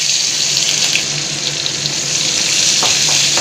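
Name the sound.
cumin and onion frying in hot mustard oil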